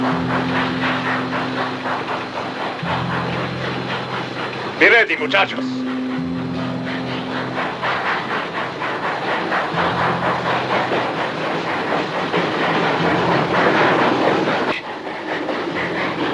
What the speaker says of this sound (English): that train ought to be slowing down by now